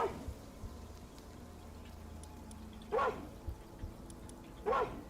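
A Pal creature in the video game Palworld gives two short barks a couple of seconds apart, faint over a quiet low game ambience.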